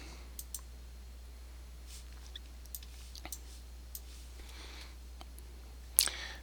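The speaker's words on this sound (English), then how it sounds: "Go ahead and click it to open it." Faint, sparse computer mouse clicks scattered over a low steady hum, with one slightly louder cluster of clicks near the end.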